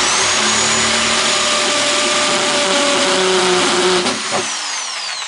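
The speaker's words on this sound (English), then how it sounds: "we'll drill a hole" A power drill bores a hole during a homemade air conditioner build, whirring loudly and continuously at close range before winding down near the end.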